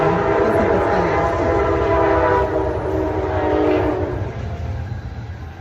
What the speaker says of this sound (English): the train is coming down.